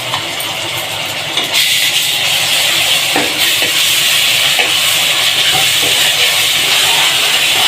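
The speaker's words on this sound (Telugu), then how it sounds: "మంచిగా ఇలాగా కొంచెం ఫ్రై అవ్వనివ్వండి. వెల్లుల్లి పేస్ట్ వేయండి." Chopped onions with garlic paste sizzle in a hot pan, a loud steady frying hiss that jumps up in intensity after a second and a half, with occasional soft stirring scrapes and no talking.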